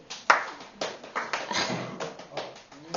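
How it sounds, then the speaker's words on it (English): Scattered hand claps from a classroom group, uneven and moderately near, a few bursts spread over a short stretch without talk. "Everybody, clap."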